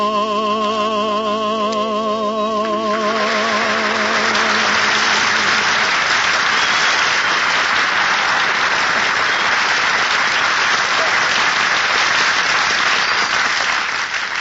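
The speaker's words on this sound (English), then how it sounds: "did you hear that clapping? They loved the kid." Studio audience on an old radio comedy show bursts into applause as a sung note and band music end, then loud, dense clapping carries on steadily for over ten seconds.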